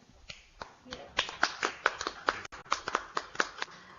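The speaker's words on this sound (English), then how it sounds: "let's give us applause to Professor Hira" Applause from a small audience at the close of a discussion session in an HIV/AIDS prevention education course, a sparse run of distinct hand claps that grows denser, heard close and fairly quiet.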